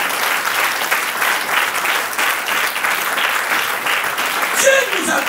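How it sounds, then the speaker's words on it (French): A church congregation at an online worship service bursts into sustained, dense applause and cheering that holds steady throughout, with voices rising within the clapping near the end. "Et acclamons très fort le Seigneur."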